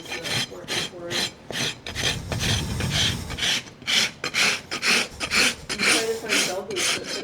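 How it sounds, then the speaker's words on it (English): A farrier rasps the hoof of a large Percheron draft horse, producing a steady run of rhythmic, gritty scraping strokes up close, with brief voices in the background. "Sight it before rasping it."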